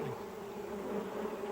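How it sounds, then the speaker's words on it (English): Wasps buzz around their nest in a close, steady, droning hum that holds without a break. "There was a wasp's nest where his heart should have been."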